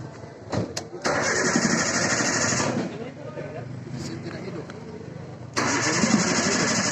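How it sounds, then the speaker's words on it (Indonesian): A car with a fault that keeps it from running cranks on its starter in repeated grinding bursts without catching, separated by quieter gaps, while someone speaks nearby. "Langkah pertama, kita coba melakukan starter."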